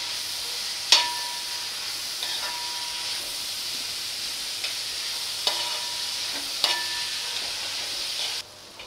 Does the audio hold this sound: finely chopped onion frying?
yes